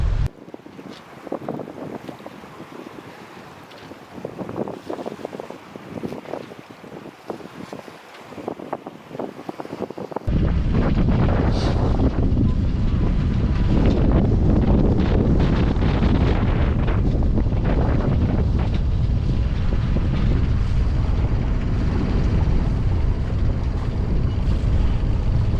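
Strong wind batters a sailboat on Chesapeake Bay, gusting and rumbling against the microphone, then becoming a loud, steady roar for the second half of the clip.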